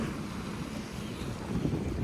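Gentle sea waves wash and hiss softly at Nagsasa Cove, Zambales, mixed with wind buffeting the microphone; no one speaks.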